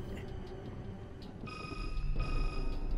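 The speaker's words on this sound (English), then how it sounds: "Is that a phone?" In Resident Evil 6 a telephone starts ringing partway through, a steady electronic ring heard a little way off over low game rumble and ambience.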